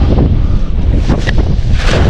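Steady, heavy wind buffets the microphone at an old fishpond, a dense roar that continues without a break for the whole short stretch.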